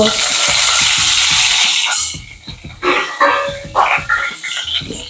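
Cumin and curry leaves hitting hot oil for a vegetable dish, a loud burst of sizzling and spattering that fades, followed by rhythmic stirring and crackle with a dog barking repeatedly nearby.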